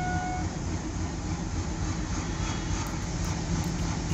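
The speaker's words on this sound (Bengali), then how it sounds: "বুঝে উঠতে উঠতে ট্রেন ছেড়ে দেয়।" A train pulls away from a station, a steady, loud rumble of wheels and carriages that fills the whole stretch without any voices.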